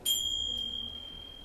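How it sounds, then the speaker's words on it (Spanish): A small door bell rings once with a bright, clear ding that fades slowly over about a second in a quiet room, with no voices. "la campanilla de la puerta sonó"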